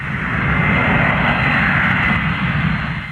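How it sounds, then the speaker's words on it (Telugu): Airplane engines of a departing flight at an airport roar in a loud, steady, broadband rush that holds at constant strength for about three seconds, with no voices over it. "ఏమే ఫ్లైట్ వెళ్ళిపోయేలా ఉంది."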